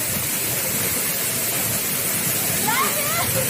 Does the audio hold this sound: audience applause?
no